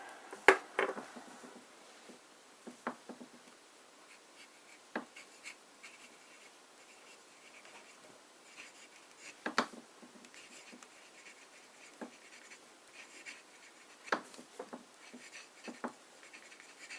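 An italic nib fountain pen writing on paper with Cross blue ink, giving faint, close scratches and soft scrapes spaced out irregularly across quiet stretches, heard alone.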